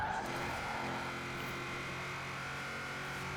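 A race car in a video game drives at speed, its engine holding a steady, sustained drone with faint tire noise, heard alone and fairly close.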